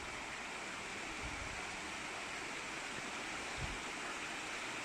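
Constant rushing fresh mountain water in Wenzhou, China fills the whole stretch, a dense, even hiss of flowing stream with a few soft low thumps beneath.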